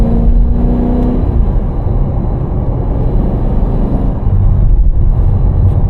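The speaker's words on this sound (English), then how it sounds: "it's louder and we're getting some pops and burbles." An 800hp Cadillac CT5-V Blackwing in sport mode rumbles loudly and steadily up close, with a sustained droning engine note and a few brief exhaust pops breaking through.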